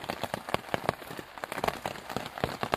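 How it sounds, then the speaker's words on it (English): Rain drumming on a tarp pitched at a wild camp in the Lake District, heard from underneath as a steady patter of close, irregular drops with occasional sharper, louder hits. "under the tarp, listening to rain, hitting it"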